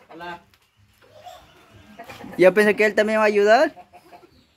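A hen at a family Sunday gathering lets out a loud, close burst of rising clucks and squawks lasting about a second, after brief speech and under people talking.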